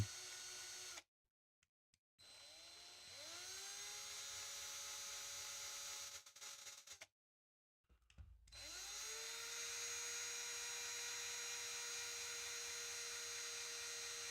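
A small power drill fitted with a thin bit, bought as a replacement for poor ones, whines steadily in several bursts, each spinning up with a rising pitch, separated by short silent pauses, with no talk over it.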